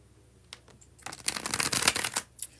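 Tarot cards get a bridge shuffle, first a few soft taps and riffles, then a loud, fluttering cascade of cards snapping together, ending with a couple of light settling taps.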